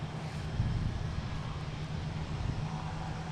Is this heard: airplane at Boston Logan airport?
yes